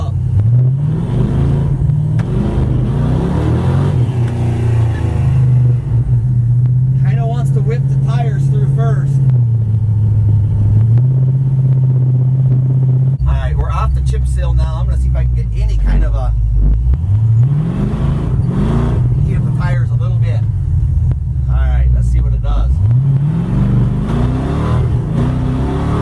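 A Dodge 5.9 L V8 with a torque converter, fitted to the Bombcycle, drones loudly on a test drive, its revs rising and falling in repeated surges while people talk over the engine.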